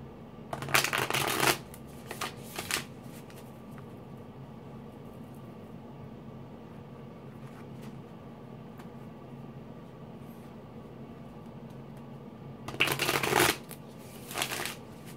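Tarot cards shuffled in two bursts, one at the start and another near the end, with a steady quiet room hiss in between and no talking.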